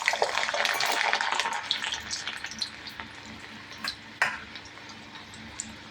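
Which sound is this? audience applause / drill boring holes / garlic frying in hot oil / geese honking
garlic frying in hot oil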